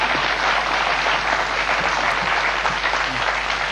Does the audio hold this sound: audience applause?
yes